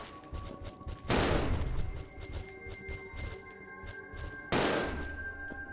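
Two loud, sharp gunshot blasts in the Resident Evil 0 video game, spaced a few seconds apart. Each ends in a ringing decay over steady game ambience.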